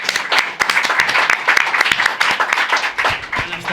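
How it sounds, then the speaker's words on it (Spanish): An audience at an indoor book presentation claps steadily, the dense applause close and continuous with a few louder individual claps. "Un aplauso para él."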